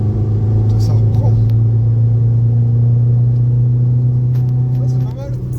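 Volkswagen Golf 6 TDI diesel with stage 2 tune and an original turbo at roughly 302,000 km, pulling hard with a loud, steady low rumble from inside the car before easing off near the end.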